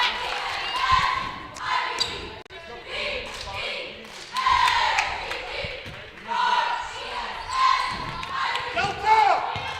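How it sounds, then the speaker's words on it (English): Loud crowd noise fills a girls' varsity high school basketball game between Union Catholic and Summit, with cheering swelling and falling in waves, bouncing ball thumps and sneaker activity, and commentators talking over it throughout. "They're really pumping this crowd noise into our headsets."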